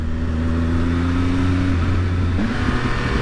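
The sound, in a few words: Triumph Speed Triple RS motorcycle engine revving, Arrow exhaust pops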